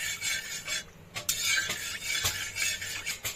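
Ghee with a little white oil melting in a pan, stirred with a utensil that makes repeated scraping strokes and light clinks over a soft sizzle.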